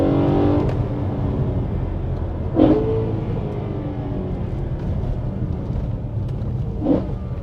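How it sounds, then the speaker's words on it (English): A BMW M3 accelerates on a country B road, its induction noise a steady loud engine drone with two brief swells as it pulls, heard from inside the car with no talking. "induction noise."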